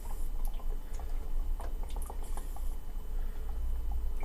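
Guinness Draught pours from a can through a Nitrosurge device into a pint glass: a steady, close liquid rush with scattered small drips and bubbly crackles throughout, and no voices.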